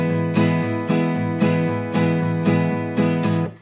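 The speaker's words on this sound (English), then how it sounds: "We're just going to really be accenting those down strums" Acoustic guitar plays a steady strumming pattern with accented down strums, sharp regular attacks every half second or so, each chord ringing between them. It is close and clear, with no talk.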